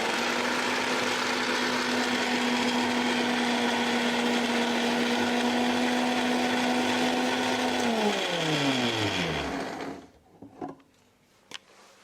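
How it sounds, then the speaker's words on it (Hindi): Mixer grinder jar grinding soybeans into a coarse powder, a loud steady high whine for about eight seconds that winds down as the motor stops, followed by a few faint knocks and rattles. "अपने मिक्सी जार में डाल के इसको ग्राइंड कर लेना।"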